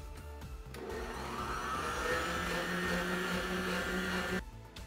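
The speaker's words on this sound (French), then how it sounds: "Maintenant, nous allons faire monter nos blancs en neige." An electric mixer whips egg whites with a pinch of salt, a steady high motor whine in a bowl that starts after a few clicks, rises slightly in pitch as speed increases, then cuts off.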